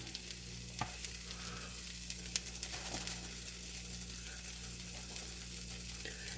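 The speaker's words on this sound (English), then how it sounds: "And now I'm just going to throw in some strips of bacon." Bacon strips sizzling in a frying pan make a soft, even crackle that stays fairly quiet and constant, with a few sharp pops and clicks rising above it near the start.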